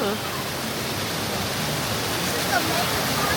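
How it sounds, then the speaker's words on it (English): A waterfall along a redwood nature trail pours in a steady, broadband rush with no break, loud and close, and a voice comes in faintly at moments. "But there's something very peaceful. A waterfall."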